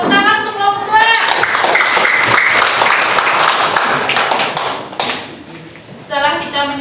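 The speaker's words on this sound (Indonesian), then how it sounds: "Tepuk tangan untuk kelompok 2." A classroom of students clapping for a group that has just presented, dense and sustained for several seconds before tapering off, with children's voices at the start and end.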